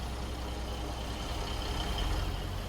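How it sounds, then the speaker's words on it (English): A truck with a Caterpillar 3406B engine pulls away in American Truck Simulator, a deep low diesel rumble with steady engine drone, heard alone without voices. "not very torquey start off with this 3406B"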